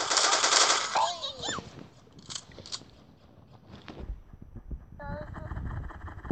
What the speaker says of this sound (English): I need to kill you with my pistol.